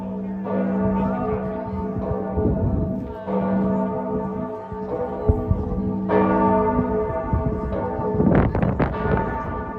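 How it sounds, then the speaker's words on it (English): Church bells ring out from Giotto's Bell Tower beside the Florence Duomo after Mass, loud overlapping peals swelling in repeated waves over several seconds, heard from nearby in an open square. "Giotto's Bell Tower, celebrating the end of our Mass here at the Dome of Brunelleschi, the Duomo."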